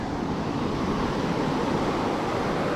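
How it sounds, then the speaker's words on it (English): Steady broadband roar of surf rolling onto the beach at Hoi An on the East Vietnam Sea, close and continuous, with some wind rumble and no voices. "Well, this is the East Vietnam Sea."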